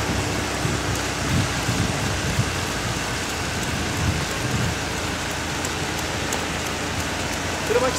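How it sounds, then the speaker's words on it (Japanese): Heavy rain pours down outdoors in a dense, continuous hiss of drops on surfaces, loud and steady from start to finish with no clear gaps. "すごい雨ですね。"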